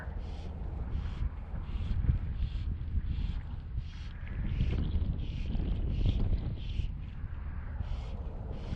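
Wind blowing across a fishing boat on the water, a continuous loud buffeting roar with gusty swells and rhythmic rustling, no clear speech.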